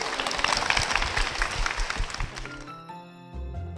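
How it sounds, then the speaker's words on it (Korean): A church congregation claps in blessing for a deaconess, a dense patter of hands that fades after a few seconds into soft musical tones. "우리 권사님께 축복의 박수"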